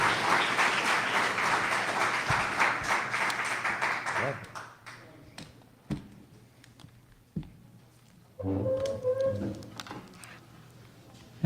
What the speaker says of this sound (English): let's give Jeff a round of applause